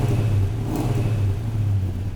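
A 1973 Plymouth Duster 340 V8 with carburetor, MSD ignition, headers and a MagnaFlow 2.5-inch stainless mandrel-bent exhaust idles with a loud, deep, steady rumble, close up and without voices.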